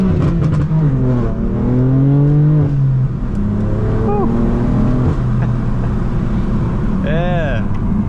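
A BMW M4 F82 with a manual gearbox revs and accelerates hard while driving, its loud, low engine note rising through the gears, close and dominant, with a voice speaking briefly over it.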